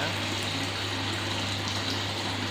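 A koi pond being refilled with water, a steady, loud, continuous gushing rush with no breaks, close by.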